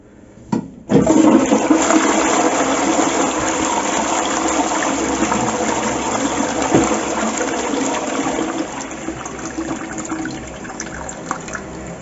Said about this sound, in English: I've just put a load of toilet paper down, and I've done it a few times and flushed it